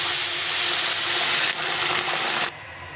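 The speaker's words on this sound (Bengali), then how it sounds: "জলটা দিয়ে দিই।" Boiled water poured into a pan of sizzling spices and potatoes for a fish curry gives a loud, steady frying hiss that weakens partway through and then drops off sharply near the end.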